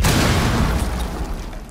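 A heavy breaching-charge explosion from the video game Rainbow Six: one loud, deep boom that rolls on with a rumbling, crackling tail and fades slowly, with no voices over it.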